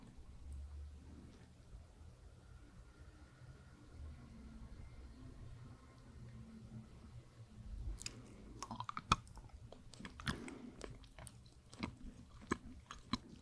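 Close, wet chewing of a small pyramid-shaped Dutch licorice candy begins partway through, soft irregular bites and mouth sounds in a quiet room after a near-silent start, with no talking.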